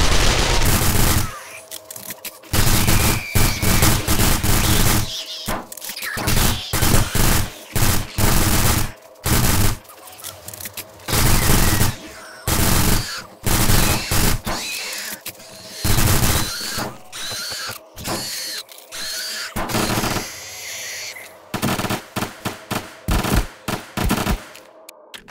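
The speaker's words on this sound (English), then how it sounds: "Gonna have to bring out the SMG, is that what you're telling me?" Rapid bursts of SMG fire in the video game 7 Days to Die, loud repeated volleys separated by short pauses, continuing throughout.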